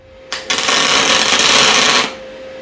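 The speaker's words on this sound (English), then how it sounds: "We've just done a single tack" A single tack weld on a Bolens sleeve hitch bracket, a loud steady electric buzz and crackle lasting under two seconds, close up, with a faint hum before and after.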